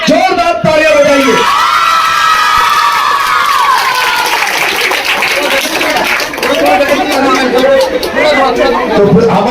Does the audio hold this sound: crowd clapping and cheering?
yes